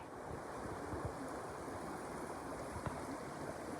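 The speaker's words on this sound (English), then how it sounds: "creek or river or body of water" Water of Eliza Brook, a mountain creek on a hiking trail, rushes steadily as a continuous broadband wash with faint low thumps, with no voices.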